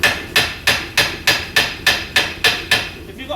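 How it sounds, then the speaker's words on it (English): A hammer strikes metal about ten times in an even, quick rhythm, close and sharp, while knocking a front wishbone into place on a 2012 SEAT Ibiza. "if I get a hammer now, hammer is pretty much horizontal."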